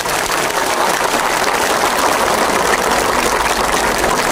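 Audience applause at a rally marking a certificate and handover ceremony in Tavas, Denizli, steady dense clapping that stays loud and unbroken throughout with no speech over it.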